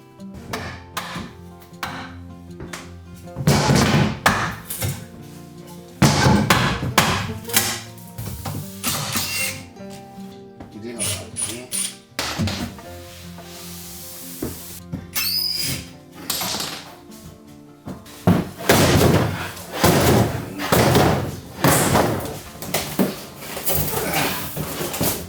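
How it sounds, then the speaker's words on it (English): A veteran carpenter dismantles a veneer-built oshiire closet in a roughly 30-year-old Japanese house. Irregular bursts of prying, knocking and rattling boards come and go, separated by quieter stretches. "Next, I take apart the oshiire on the side."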